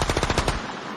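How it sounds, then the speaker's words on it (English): Gunshot sound effect: a rapid burst of about six sharp, loud shots in quick succession, like automatic fire, then the sound cuts off abruptly into near silence. "I've been waiting to try out this gunshot. It's a different effect."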